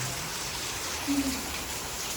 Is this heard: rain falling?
yes